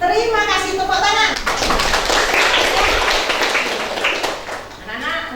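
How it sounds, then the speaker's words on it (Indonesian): Students in a classroom break into a short burst of hand clapping, loud and close, with talk before and after. "Terima kasih, tepuk tangan."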